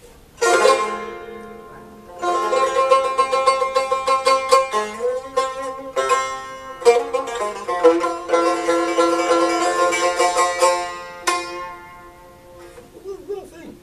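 A small Azerbaijani tar is plucked in a lively run of bright, ringing notes with quick strums and short pauses, played close and solo with no talk over it.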